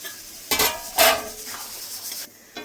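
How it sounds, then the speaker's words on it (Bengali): A metal lid is lifted off a pot of mixed vegetables, potatoes and prawns simmering on the stove, giving a few sharp clanks and scrapes in quick succession with a brief hiss of steam between them. "ঢাকনা খুলে দেখে নেব।"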